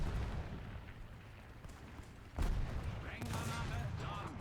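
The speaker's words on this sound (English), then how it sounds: "What is he shooting at?" Gunfire and artillery booms in a World War I battle in the War Thunder video game, a quieter rumbling stretch broken by a sudden louder blast and continued firing, no speech.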